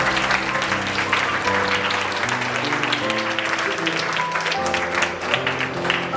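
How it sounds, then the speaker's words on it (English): A school audience applauds in a steady, dense burst of clapping that fills the whole stretch, with some murmuring voices mixed underneath. "give them a round of applause"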